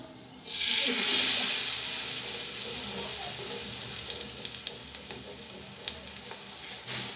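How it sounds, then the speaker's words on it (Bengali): Batter-coated pointed gourd (potol) slices dropped into hot oil burst into a loud, steady sizzle that settles into a continuous bubbling hiss with small crackles, close by. "এখন আমি ভাজি করব, চুলায় দিয়ে দিব ভাজি করার জন্য।"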